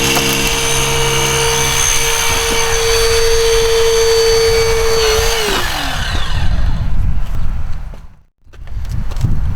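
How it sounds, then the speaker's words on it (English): During a side-access vehicle extrication, a hydraulic rescue spreader drones loudly under pressure against a car door latch. The motor pitch drops as the metal gives, then a brief lull is followed by creaking, clanking metal. "I'm now going to remove the spreader, drop into this gap, and go ahead and blow apart this latch assembly."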